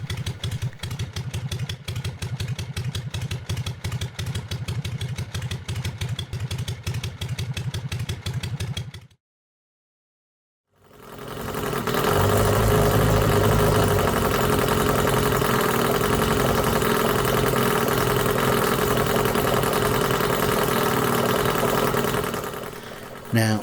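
A petrol-fuelled 1/5 scale Harley Davidson V-Twin model engine runs with a steady, rapid mechanical clatter, cuts out briefly into silence, then restarts louder and keeps running evenly at close range.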